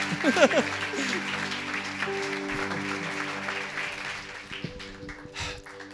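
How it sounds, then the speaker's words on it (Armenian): A church congregation applauding: dense clapping that is strongest at the start and then continues more evenly, with a voice talking over it. "եկեք բարձր ծափարենք Հիսուսին մեր հովիվի համար"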